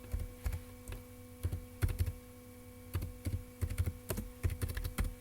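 Keys clacking on a computer keyboard in irregular bursts of quick strokes with short pauses, close and fairly quiet over a faint steady hum.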